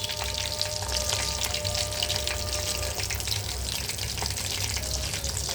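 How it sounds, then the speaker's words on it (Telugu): Chicken leg pieces fry in hot oil with a dense, continuous crackling sizzle, close and fairly loud, holding steady throughout with scattered sharper pops. "లెగ్ పీస్లో ఫ్రై చేస్తున్నాను"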